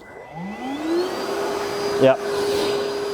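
A vacuum cleaner in blower mode runs steadily with a rising motor whine, a brief louder rush partway through, and a short spoken word.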